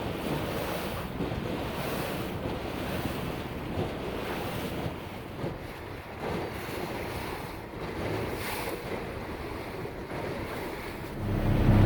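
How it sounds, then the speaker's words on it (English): Small waves slap and splash against the hull of a model boat on open water for about twelve seconds, with steady wind buffeting the mic throughout and no talking. "getting to feel what the hull does when you hit a little bit of waves"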